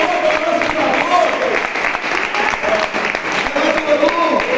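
A church congregation at a Baptist service in Toronto claps together in dense, sustained applause that fills the whole stretch without a break.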